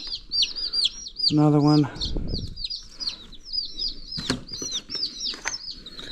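Freshly delivered baby chicks peep in rapid, high chirps throughout as they are lifted one by one into a simple brooder, with a brief wing flutter, some handling rustle and a voice speaking briefly.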